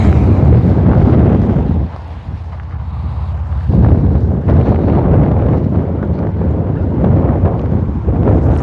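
Strong tailwind on a disc golf course in Shelton, Washington, roaring loudly and continuously across the microphone as heavy buffeting rumble, briefly easing for a moment before surging back.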